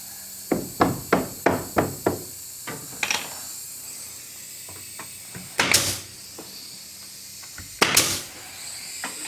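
Hammer face-nailing nickel gap rainbow poplar boards in a molder planer room: a quick run of six or seven sharp, close blows, then a few scattered taps and two louder, longer knocks as a board is set.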